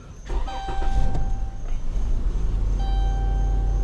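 A 2011 Chrysler Town & Country minivan's engine cranking without starting, a loud close grinding churn lasting several seconds, with steady electronic warning chimes ringing over it.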